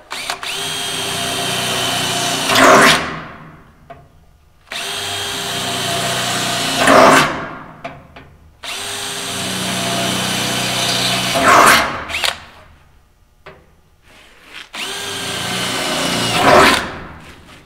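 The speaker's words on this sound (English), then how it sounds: "So me drilling all these won't be an issue" A power drill whines in four long bursts, each ending with a sharp bite as the bit breaks through car trunk sheet metal, separated by brief pauses.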